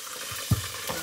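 Fatback frying in hot grease pops and crackles in a short, close burst, one louder spatter standing out against a continuous sizzling hiss.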